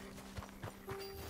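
Horse hooves clip-clop at a walking pace in the Red Dead Redemption 2 video game, three or four soft, evenly spaced thuds over a steady low background hum.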